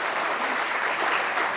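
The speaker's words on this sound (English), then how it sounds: "Yeah, round of applause." Audience at a Coalesce 2024 conference talk gives a round of applause, a dense, loud, even wash of clapping that fills the short moment without a break.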